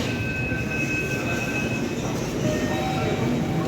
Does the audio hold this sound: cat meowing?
no